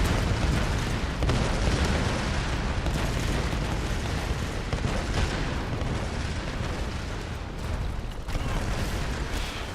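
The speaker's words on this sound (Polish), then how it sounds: "Te wybuchy!" Continuous rumbling explosions in the video game Tomb Raider, set in a temple and its underground passages, with loud, dense booms and crackling debris that roll on without pause.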